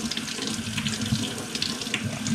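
A kitchen tap runs steadily while chicken meatballs cook in tomato sauce, a loud, continuous rushing splash of water into the sink with no pauses.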